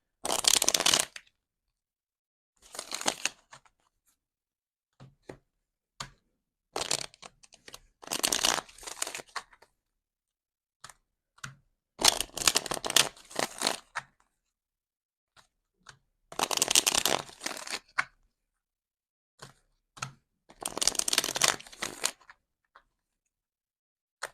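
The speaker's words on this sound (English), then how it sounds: "Just shuffling my cards." Tarot cards riffle and shuffle in several short bursts, close and crisp, separated by brief pauses of silence.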